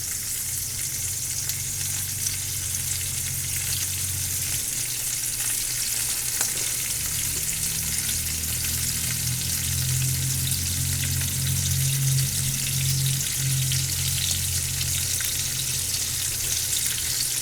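Chicken pieces sizzle skin side down in a pan of hot olive oil, a steady, loud crackling hiss, with a low background rumble underneath and no talking.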